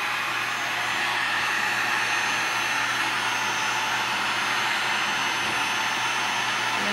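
A heat gun blows a loud, steady roar of hot air onto a refrigerant pipe to cure a PIPESEAL leak repair, running unbroken and close throughout with no voices.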